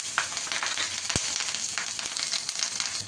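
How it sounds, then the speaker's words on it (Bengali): Nigella seeds and green chilies tempering in hot oil over low heat, a steady close sizzle with scattered crackles and one sharp pop, no voices. "এবার আঁচটাকে লো ফ্লেমে করে দিয়ে আমি এর মধ্যে একটু কালো জিরে আর কাঁচা লঙ্কা ফোড়ন দেবো।"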